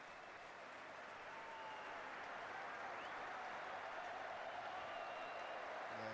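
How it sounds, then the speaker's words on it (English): Standing ovation from the cricket crowd at the MCG during the 4th Test, a dense, steady wash of applause and crowd noise filling the stadium, distant and continuous throughout. "A standing ovation here from the MCG crowd"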